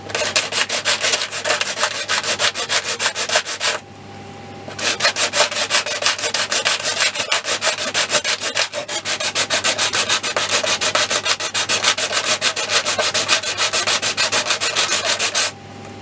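Continuous rapid rasping of a blade or file working through a thin plastic RC car body shell along a masked line, steady and close, with a brief pause about a quarter of the way in before the strokes resume and run on.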